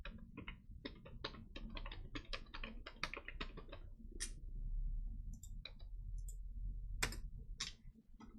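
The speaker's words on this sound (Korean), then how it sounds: "제1작업 범위 이미 선택은 되어 있습니다. 컨트롤 C 누릅니다." Computer keyboard keys are pressed during an Excel exercise, with a quick run of crisp, close typing clicks followed by sparser, scattered taps, fairly quiet and with no talking.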